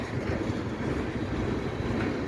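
A Norfolk Southern freight train passing over the Delair Bridge makes a loud, steady rumble of heavy wagons that fills the whole moment, with no voices.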